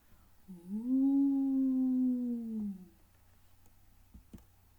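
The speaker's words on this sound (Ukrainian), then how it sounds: "Раптом ззовні знову пролунало виття." A single long, sustained howl rises and holds for a couple of seconds before trailing off, followed by faint clicks in a quiet room.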